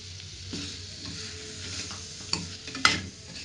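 A red chili, coriander, cumin and pepper spice paste frying in a pan for potato kurma: a steady sizzle broken by scraping stirs and two sharper utensil clacks near the end, with no voices.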